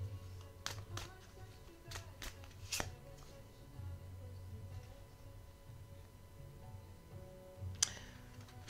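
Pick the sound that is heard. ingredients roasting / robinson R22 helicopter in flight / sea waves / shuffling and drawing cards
shuffling and drawing cards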